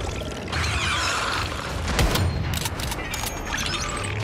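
Gunfire aimed at a spider boss in the video game Once Human, heard as loud mechanical bursts and a heavy boom mid-way, dense and continuous with no talk.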